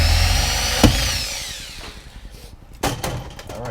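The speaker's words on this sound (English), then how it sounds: "you guys should have something to stabilize this on and drill onto it" Power drill boring into a metal Andis Outliner hair clipper blade, a loud whirring spin-down followed by short grinding bursts and a knock near the end, close up with no talk.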